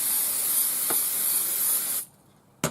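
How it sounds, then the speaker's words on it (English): Temporary spray adhesive hisses steadily from an aerosol can onto a folded hooded towel for about two seconds, then cuts off, leaving near silence before a short tap at the end. "I just put some temporary spray adhesive,"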